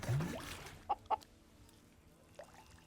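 Chickens in the Surviving the Aftermath video game give a few short, soft clucks against a quiet game background, with one brief call near the start and isolated clucks after it.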